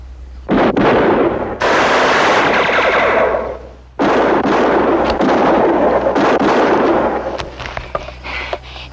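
Automatic gunfire with armor-piercing rounds rips through a shootout in a film about Bonnie Parker, in two long, loud, close volleys of rapid shots followed by scattered sharper cracks.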